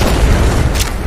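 A grenade goes off in Apex Legends, a deep, loud boom that rumbles and fills the whole moment, with a short crack partway through.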